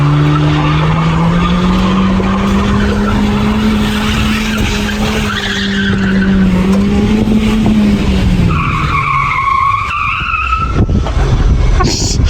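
A cheap BMW Z3 brakes hard, its tires squealing in a long, loud, sustained screech close by, followed by a second shorter skid squeal near the end.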